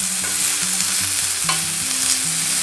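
Aromatics with green pepper sizzle steadily in olive oil in a pan, a continuous frying hiss broken by a few soft scrapes of stirring, close and fairly loud with no talk.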